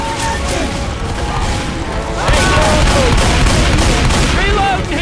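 Sustained gunfire from Left 4 Dead 2 survivors shooting at a Tank in Survival mode on the Motel map, a loud continuous barrage of rapid shots with crashes and game sounds underneath.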